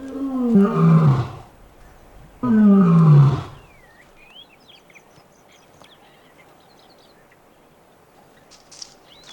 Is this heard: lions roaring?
yes